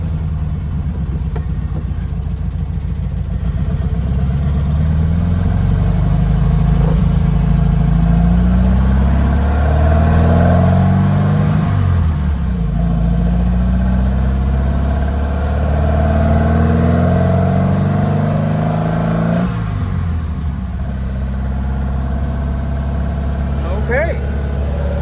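Air-cooled 1957 VW oval-window Beetle fitted with an 1800cc engine, idling loudly and steadily with several throttle blips that rise and fall, its throttle sticking slightly; people talk intermittently over the running engine.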